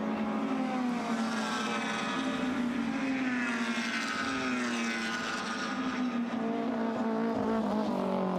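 Historic racing cars, including an Alfa Romeo 1600 GTA Corsa and a red Cortina, passing at Goodwood in a Whitmore Trophy race: a loud, continuous engine roar whose pitch swells and sweeps as the cars go by.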